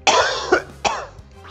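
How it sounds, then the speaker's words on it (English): Three rough, throaty coughs, close and loud, come in quick uneven bursts with brief pauses between them, sounding partly like throat clearing. "Sorry for the weird cough."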